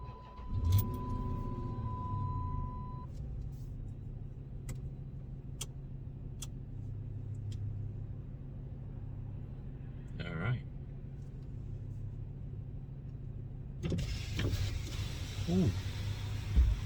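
A car engine cranks and fires up, heard from inside the cabin, then settles into a steady low idle rumble with a few faint ticks; a second burst of engine noise rises near the end.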